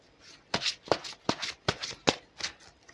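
Tarot cards being shuffled by hand, about six crisp riffling bursts in quick rhythm, close and fairly quiet, with no talking.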